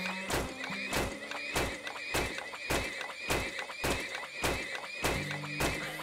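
Horses neigh repeatedly in the video game Turmoil, with several sharp whinnies and clopping hits at a steady rhythm over a busy, constant game soundtrack.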